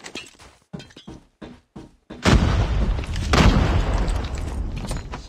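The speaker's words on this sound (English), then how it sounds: "Frag out! Grenade out!" A grenade explosion in a military shooter video game bursts loud and sustained after a run of short, sparse clicks and thuds, its roar rolling on for several seconds with a second surge partway through.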